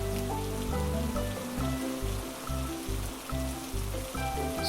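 Heavy rain falls steadily, a dense continuous hiss of drops on surfaces with no voices, loud and close throughout.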